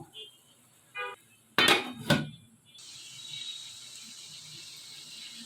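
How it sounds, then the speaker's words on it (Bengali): A spoon knocks and scrapes a few times against a pan while fried eggplant is stirred with spices for achari begun, followed by a soft, steady sizzle. "এখন আমি এগুলোকে খুব সুন্দর করে মশলার সঙ্গে মিশিয়ে নিব"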